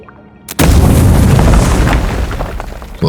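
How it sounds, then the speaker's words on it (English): A grenade explodes in the fantasy RPG Avowed: a sudden loud, close boom breaks from near silence into a sustained rumbling blast that slowly decays, with a fresh burst at the very end. "Grenade."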